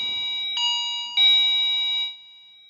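An electronic doorbell chimes with a bright ringing tone, two struck notes in a row that sustain and then cut off, close and clear with no talk.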